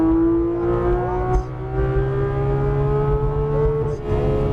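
Porsche 993 GTS RS engine droning steadily at speed on a race track, heard from inside the car, with a strong harmonic tone that rises slowly under load and shifts briefly during a pass.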